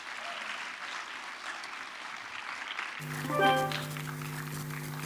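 Applause from a church congregation at an evening praise service, a dense wash of clapping for about three seconds that gives way to sustained organ or keyboard chords with a brief swell.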